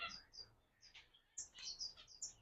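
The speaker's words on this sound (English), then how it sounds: "Those are 1-day and 2-day-old diamond doves." Newly hatched diamond doves, one and two days old, give faint high chirps in short bursts, some overlapping, close by with quiet pauses between.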